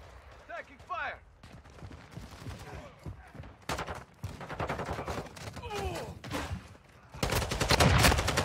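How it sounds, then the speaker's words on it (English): Rapid gunfire from Call of Duty Modern Warfare 2 on PC, with bursts of automatic fire and single shots that come in waves and build to a loud barrage at the end, under radio chatter and spoken callouts. "Taking fire."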